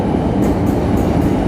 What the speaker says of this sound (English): here's the train pulling out